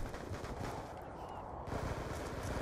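Rapid automatic gunfire from a Swat 556 rifle in Black Ops 2 gameplay, dense bursts at moderate loudness with a brief lull midway.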